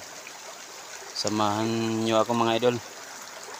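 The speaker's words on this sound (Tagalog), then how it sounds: "Nandito ngayon ako sa ilog." A river stream flows in the background as a soft, steady wash, while someone speaks over it for a couple of seconds in the middle.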